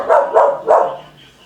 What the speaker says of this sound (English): She is barking.